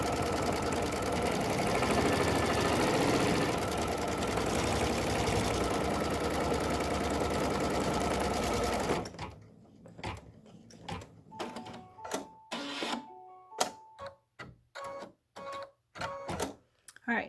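Sewing machine stitching the placement stitch of a candy cane quilt block over batting: a dense, continuous run of rapid stitching for about nine seconds, then short separate bursts and clicks with pauses between them.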